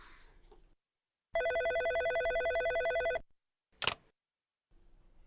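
An old-style telephone bell rings loudly in one continuous burst of about two seconds, set in a mansion, followed by a short sharp clatter, with quiet room sound around it.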